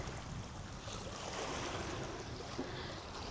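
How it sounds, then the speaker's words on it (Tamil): Small, gentle sea waves washing in at a beach in Denmark, a faint, steady wash of surf with some wind rumble on the microphone and no voices. "ஸோ அந்த அலையோடைய சவுண்டு கேட்கும்னு நினைக்கிறேன்."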